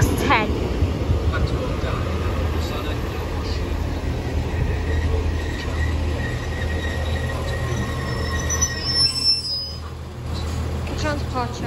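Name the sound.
Transport for Wales train departing Treforest station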